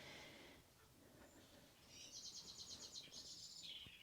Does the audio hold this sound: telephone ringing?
no